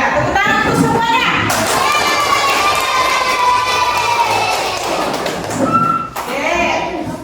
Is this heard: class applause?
yes